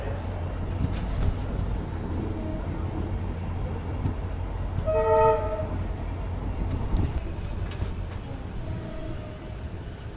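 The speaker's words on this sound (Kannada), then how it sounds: "ಕುಷ್ಟಗಿ ಎಕ್ಸ್ಪ್ರೆಸ್ ಇದ್ರ ಫಸ್ಟ್ ಇನಾಗ್ರಲ್ ಅಲ್ರಿ ಕಮರ್ಷಿಯಲ್ ರನ್ ಒಳಗೆ ಬಂದು ತಲುಪೈತಿ" The Kushtagi Express on its first commercial run pulls into the station with a steady rumble of wheels and carriages, a clear horn blast sounding midway, with a shorter toot later.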